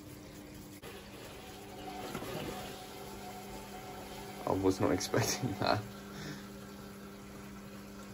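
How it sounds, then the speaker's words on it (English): A Hotpoint WMA48 washing machine's drain pump, with ice in it, hums faintly and steadily, then churns out a short burst of gushing, gurgling water. A person speaks briefly over the sound. "at least you know the pump's working, but obviously it's got ice in it then."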